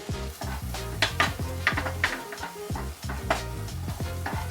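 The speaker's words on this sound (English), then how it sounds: "after sauteing the spices with the sauce" Spices sautéing in sauce in a pan for an Indian-style creamy pasta, a crackling sizzle broken by repeated clinks and scrapes of a utensil stirring against the pan, close and rhythmic, with no talking.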